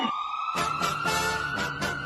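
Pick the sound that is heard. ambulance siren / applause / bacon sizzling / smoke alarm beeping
ambulance siren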